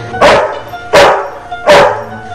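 A dog barks three times in a steady rhythm, each bark loud, close and sharp with a brief tail, standing alone without talk.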